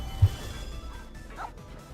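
A dog in the Genshin Impact video game gives one short, sharp bark near the start, followed by quiet game ambience and faint background tones.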